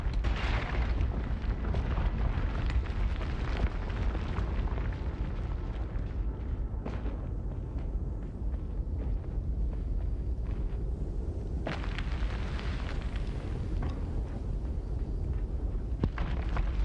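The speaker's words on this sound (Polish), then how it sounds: "Czyż wybuch wielki był." A planet explodes in the video game Planet Alpha: a loud, sustained roaring rumble with dense crackling bursts that keeps going without a break for the whole stretch.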